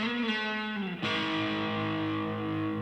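A country lick on slide guitar played in the A position, sustained gliding notes with a distorted electric tone that swoop down into a held chord, close and alone.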